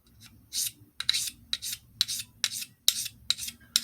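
A knife blade is rubbed to dull it, giving a series of close, gritty rasping strokes in an irregular rhythm with short quiet gaps between them.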